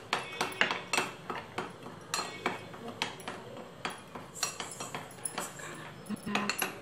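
A cocoa powder and corn flour mixture for chocolate pudding is stirred in a bowl, giving a steady run of light, quick clinks and scrapes of a utensil against the dish.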